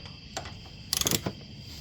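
A long 10 mm wrench working a bolt on an Icebear 50cc moped, giving a faint click, then a quick burst of close metallic ratcheting clicks and a final clack against a low steady background hum.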